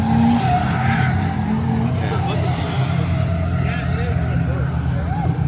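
Drift cars at a Final Bout open session, including a Miata, Soarer, FC RX-7, Chaser and FK8 Type R, skid and squeal with roaring engines across the track, a loud continuous wash while a commentator talks over it.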